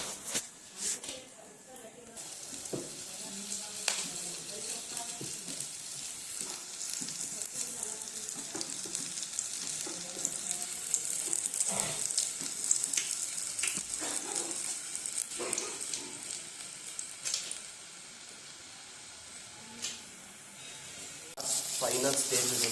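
Batch of onion rings deep-frying in hot oil, a continuous crackling sizzle with stirring and occasional clinks, close and moderately loud, while a person talks over it.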